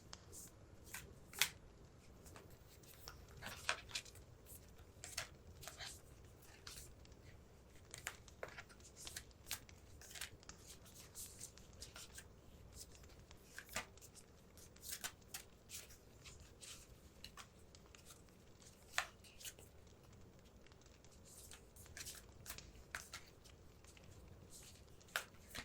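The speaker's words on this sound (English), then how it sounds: "Those should be shuffled now." Deck of oracle cards being shuffled by hand, soft repeated riffling and flicking of card stock in an irregular rhythm, close and quiet, with no talking.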